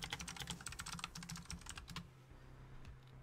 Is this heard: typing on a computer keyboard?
yes